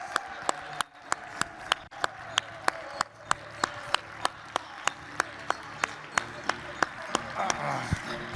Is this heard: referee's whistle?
no